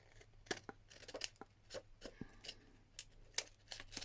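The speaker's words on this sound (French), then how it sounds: "Et là, je coupe" Scissors snip through photocopy paper in a crafting embellishment, giving faint, irregular crisp snips and small rustles at close range with no talking.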